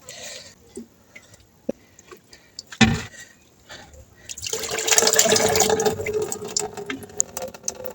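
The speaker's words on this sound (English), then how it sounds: "Strain it in this bucket right here." Liquid fertilizer strained through cloth tied over a bucket, starting with small drips and knocks, then a steady loud pouring splash that carries on to the end.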